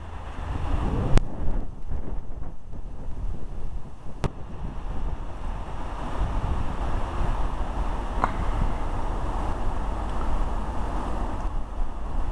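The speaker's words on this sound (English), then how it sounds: "It's a little bit breezy." Wind blows outdoors on a breezy day, a steady rumbling rush buffeting the microphone with no talking, plus a few faint clicks.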